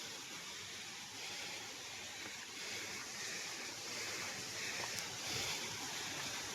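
Water pours down rocks at Rampa waterfalls, a continuous broad rushing roar with some wind buffeting the microphone, steady and fairly distant, with no voices.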